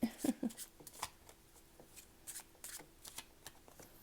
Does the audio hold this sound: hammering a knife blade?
no